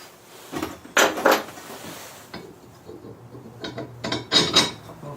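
Metallic clinks and scraping knocks as 7/8 inch steel hitch pins are pushed through holes in a scrap-metal three-point hitch, a few short bursts close up with quiet gaps between, no talk.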